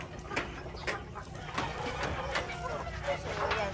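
Battlecross breed chickens cluck in a farm breeding area, a steady flock murmur with scattered sharper calls throughout, fairly close and moderately loud.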